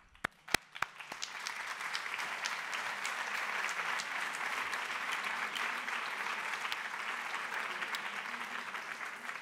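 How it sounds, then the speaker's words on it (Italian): A few scattered claps open, then a lecture audience breaks into full, steady applause that holds at an even level, filling the room after thanks at a talk on a Lorenzo Lotto portrait exhibition. "gli faccio un applauso"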